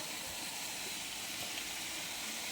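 Spinach and prawns cooking together in a pan give off a steady, soft sizzling hiss that stays even throughout, with no voices.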